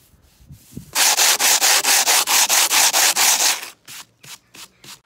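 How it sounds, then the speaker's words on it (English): A sanding block with 40 grit sandpaper is rubbed by hand across the underside of a concrete worktop: a run of about a dozen fast, even rasping strokes, then a few slower, separate passes. "Then take a sanding block and some 40 grit sandpaper to sand the underside of the worktop"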